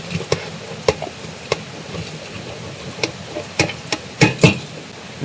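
Ash gourd and green chillies stirred in a pan, a series of sharp scraping knocks at irregular intervals over a soft sizzling background, close and clear with no talking.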